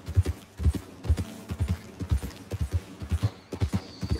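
A horse's hoofbeats pound in a steady galloping rhythm while riding in Red Dead Redemption 2, clear and close, repeating in quick grouped thuds with little else around them.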